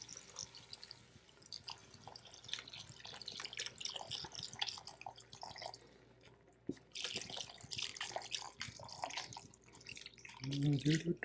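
Liquid trickles and splashes into a pot in an uneven stream of drips and pours, fairly close and quiet, with a brief clatter near the end.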